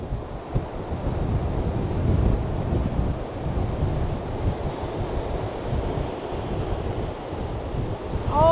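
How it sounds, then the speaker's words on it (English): Strong wind sweeps across a beach at a beachside camp, roaring and buffeting the microphone continuously, with surf rumbling underneath and no voices. "the wind is coming in so bench. strong"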